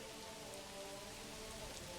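Steady rain falling in the Manor Lords video game, a continuous even hiss of drops on surfaces with no breaks or talk.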